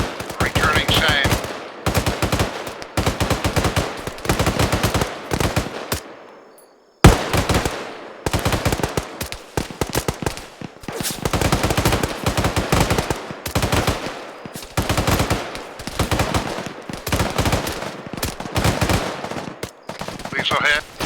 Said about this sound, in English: Shots fired. Returning same.